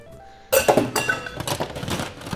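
A Caipiroska cocktail is dumped from a shaker into a glass of ice, a sudden loud rattle and clink of ice cubes and glass followed by a jumble of smaller clinks that settle down.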